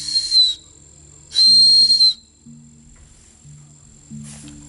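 A safety whistle carried on a lanyard as kayak camping gear is blown in two loud, shrill blasts about a second apart, then a shorter, fainter third blast, each standing alone over a low background hum.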